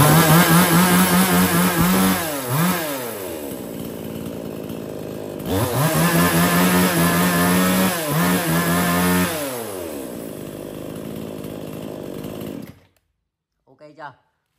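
A Kamatsu G2 chainsaw engine roars loudly at close range, revving up and dropping back in two long bursts, then cutting off, with a brief trailing clatter at the end.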